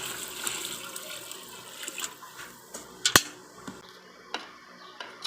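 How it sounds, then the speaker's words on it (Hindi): Water poured into a large pot of village-style degi qorma cooking with spices and meat, a few liters going in as an uneven trickling splash with scattered clinks, fairly faint and close, with no talk. "इसमें शामिल कर लेंगे तकरीबन 3 से 4 लीटर पानी के।"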